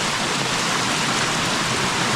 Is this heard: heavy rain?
yes